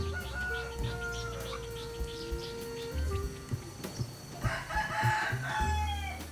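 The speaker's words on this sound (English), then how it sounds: "he records domestic roosters crowing in the Thai countryside." Domestic roosters crow repeatedly in the Thai countryside, several drawn-out calls overlapping at middle distance, with clucks and other farmyard birds in between and no talk.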